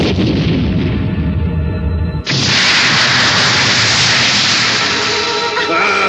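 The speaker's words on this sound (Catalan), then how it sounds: "No hi ha res com el so que fa un gran canó" A large cartoon cannon fires one huge, loud blast that roars on as a long rumbling boom, following voiced dialogue from the animated scene.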